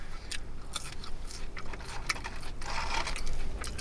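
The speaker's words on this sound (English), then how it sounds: "you're just chilling here and eating McDonald's French fries" Someone eating McDonald's French fries up close, with a run of soft, irregular crunching and chewing bites over about four seconds and no talking.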